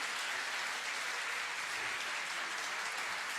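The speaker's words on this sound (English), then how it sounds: "give big round of applause to the self which is present here" Audience applause at the closing ceremony of an Ayurveda and yoga expo, a steady even wash of many hands clapping at moderate distance, continuous throughout with no talk.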